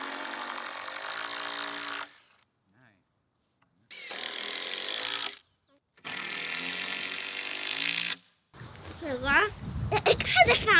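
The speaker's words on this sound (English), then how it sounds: "You think the drill sounds like snoring?" A power drill runs in three sustained bursts of roughly two seconds each, separated by short silent pauses. It is close and fairly loud, and voices and talk follow at the end.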